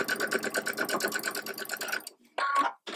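A sewing machine stitching quilt fabric runs in a rapid even rattle for about two seconds, stops, then gives a brief second burst, close and clear with no talking.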